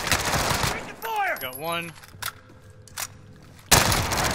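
Gunfire in a shooter video game: sharp bursts of rapid shots at the start and again at the end, with a few isolated cracks between, alongside a brief voice and musical interface tones.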